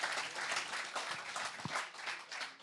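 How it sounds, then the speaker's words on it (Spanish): Church congregation applauding at a bilingual Sunday service, a brief wash of scattered clapping heard at a distance and fairly soft, with a few sharper claps standing out. "Give God a round of applause"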